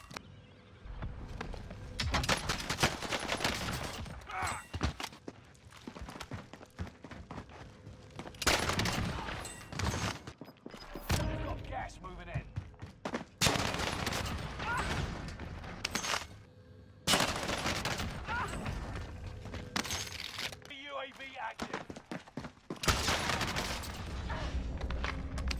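A JAK-12 shotgun loaded with fire rounds blasts repeatedly in the video game Warzone, with rapid bursts of heavy booming shots separated by brief pauses, continuing loudly throughout with no talking.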